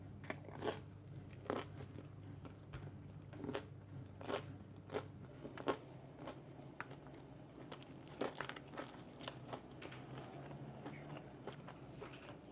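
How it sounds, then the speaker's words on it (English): Repeated crunchy bites into a crispy, toasted high-protein tuna melt sandwich, sharp crackling crunches at irregular intervals with quieter chewing between, close and fairly soft, no talking. "Yeah, the crunch is crazy."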